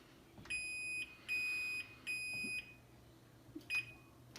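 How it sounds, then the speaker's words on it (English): An oven timer goes off while a panettone bakes, three sharp electronic beeps in a row followed by two shorter chirps after a pause, loud and close against a quiet kitchen. "we have to explicitly turn off the timer"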